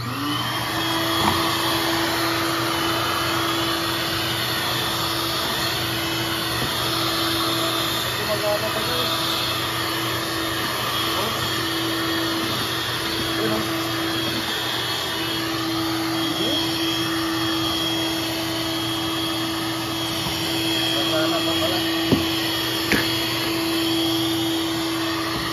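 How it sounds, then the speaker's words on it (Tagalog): A salvaged vacuum cleaner runs steadily for the whole stretch, a loud constant motor whine with a few faint clicks and knocks, and someone speaks now and then over it. "Testingin pala natin itong vacuum, guys, kung gumagana."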